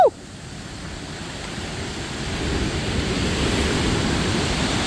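El Charro waterfall in Costa Rica pours into the ocean, making a broad, steady rush of falling water and surf that swells slightly louder over a few seconds, after a brief knock at the start.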